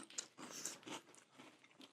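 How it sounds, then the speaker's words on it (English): Kix cereal crunches as it is eaten up close from a bowl. Quiet, uneven chewing bites and crunches repeat over a couple of seconds with no talking. "why are we eating a bowl of Kix?"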